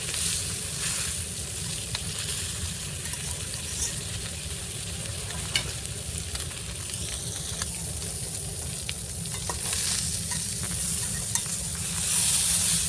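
A large fresh fish head fries in a pan, giving a steady loud sizzle with crackling pops and occasional stirring scrapes throughout, no talking.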